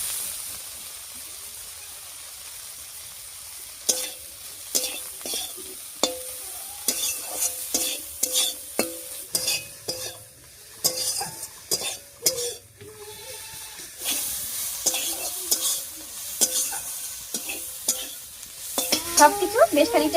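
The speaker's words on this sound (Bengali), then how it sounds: "এবারে লবণ হলুদ দিয়ে একটু ভাজা ভাজা করে নেব।" Prawn and taro greens paste frying in a pan with salt and turmeric, with loud sizzling and repeated stirring scrapes in an irregular rhythm, heard close up with no talking.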